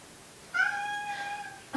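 A cat meows once, a clear drawn-out call lasting about a second, close and moderately loud in a quiet room, with a brief soft sound right after.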